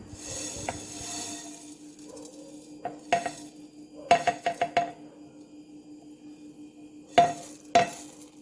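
Coriander seeds, mustard seeds, cumin and a few fenugreek seeds warm in a pan as a metal spoon taps and clinks in quick bursts against the rim over a low, steady hum.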